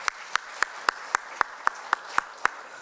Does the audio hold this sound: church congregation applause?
yes